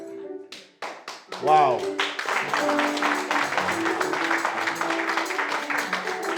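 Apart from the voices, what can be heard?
church congregation applauding and cheering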